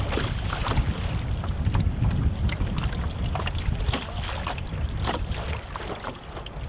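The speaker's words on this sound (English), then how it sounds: "We're out onto the main Broad now, and it has got considerably windier." Strong gusty wind buffeting the microphone over open water on Hickling Broad, Norfolk, from a paddling boat, with a low rushing roar and faint splashes, no voices.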